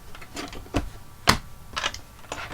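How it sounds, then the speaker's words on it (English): A metal plate being cranked through a die-cutting machine, giving an uneven series of clunks and mechanical clicks, close, with one sharper knock partway through and no voices. "we're going to run this plate through the machine all at once"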